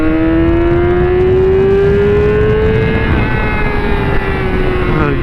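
A motorcycle engine revs hard as the rider opens the throttle on an open road, its loud, sustained harmonic whine rising and falling in pitch with wind roar underneath, close and continuous throughout.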